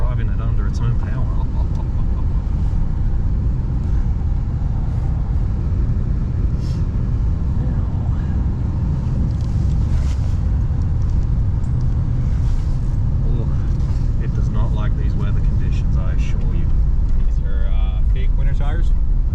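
A 1988 Cadillac Brougham with a swapped-in Oldsmobile Rocket 350, 3.73 gears and a shift kit drives along with a steady low engine and road rumble from inside the cabin, while people talk over it.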